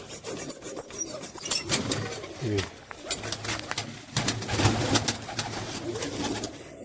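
Pigeons coo close by as domestic birds are let out into the sun, their soft throaty calls repeating in irregular bursts over rustling and wing movement.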